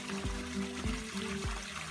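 Water runs from a healing spring in a steady, faint trickle, with soft low thumps recurring about every half second.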